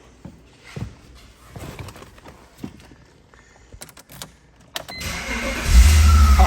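Quiet shuffling and clicks give way to a car engine cranking on a portable battery jump starter and then roaring to life, running loudly at the end.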